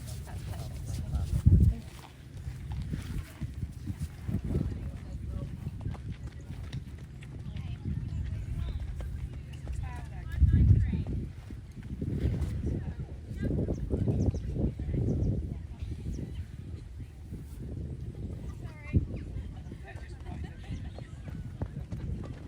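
A horse's hooves clop at a walk at the Bicton three-day eventing competition, with irregular soft thuds close by while people talk over them.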